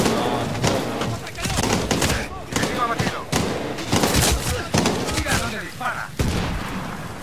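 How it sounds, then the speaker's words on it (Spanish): Gunfire in Medal of Honor Warfighter, a military shooter game: repeated bursts of shots and thuds across the whole stretch, mixed with game sounds and voices talking over the action. "a veces como, los disparos se oyen bajos"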